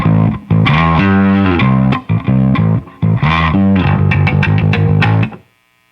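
An electric guitar plays a rock lick through a J. Rockett Archer Ikon overdrive pedal, loud and driven with sustained notes and quick runs, then cuts off abruptly near the end with no voices.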